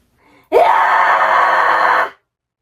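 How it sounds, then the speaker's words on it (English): A high-pitched false chord metal scream, one sustained, loud, harsh vocal cry lasting about a second and a half, held steady and then cut off cleanly, preceded by a faint breath. "High screams are where it gets a little bit difficult."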